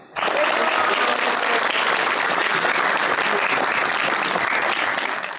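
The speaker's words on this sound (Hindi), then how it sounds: "चले जी, आइए तालियां।" A studio audience at a Pakistani television comedy show bursts into dense, loud applause right at the start and keeps clapping steadily to the end, with no speech over it.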